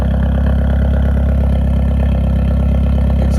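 The engine of a Volkswagen Vento idles steadily and loudly up close, a rough, tractor-like chug with a constant low throb and no change in pace.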